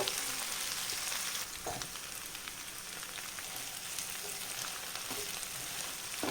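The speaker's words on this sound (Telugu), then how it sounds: "ఆనియన్స్ కూడా ఫ్రై అయిపోవాలండి" Onions frying in a pan for a dried prawn and tomato curry, a soft, even crackling sizzle with occasional faint stirring taps, heard close with no talking.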